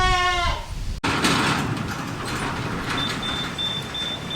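A goat bleats in a short harmonic cry at the start on a farm as it is taken away to a new home, then a sharp knock and steady vehicle-like rumble with a faint high tone take over.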